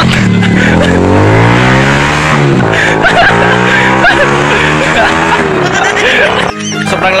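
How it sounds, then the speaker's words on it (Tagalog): A TC125 motorcycle fitted with a 28mm pit bike carburetor runs loud and close, its engine revving hard with rising and falling pitch before cutting off abruptly near the end. "Tingnan natin yung takbo ng motor niya."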